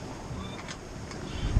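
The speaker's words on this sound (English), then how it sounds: "The wind has picked up again" Soft, steady wind rushing past a sailboat under way at sea, a faint continuous hiss and low buffeting with a slight gust toward the end.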